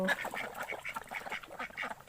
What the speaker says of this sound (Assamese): ইয়াতে আছে আমাৰ 4জনী হাঁহ